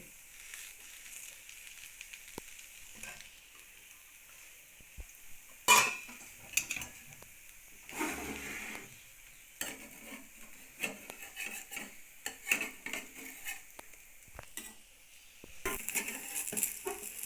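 Upma fries in a pan on top of a pesarattu, giving a soft sizzle broken by scraping stirs and clinks of a utensil against the pan, with one louder scrape and bursts of stirring.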